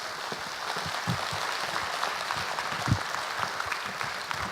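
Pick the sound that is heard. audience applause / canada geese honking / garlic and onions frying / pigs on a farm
audience applause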